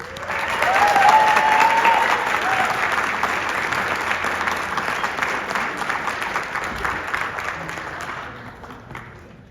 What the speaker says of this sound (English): please put your hands together for the Assistant Vice President of Community Engagement, Zach Abrams